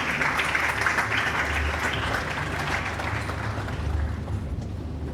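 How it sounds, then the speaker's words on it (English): Sustained, dense applause fills a large hall as the audience claps steadily at a university congregation ceremony at KNUST, loud and even throughout with no break. "Please applaud Mr. Paul Ifa, Distinguished Consultant for Higher Education and former Executive Secretary"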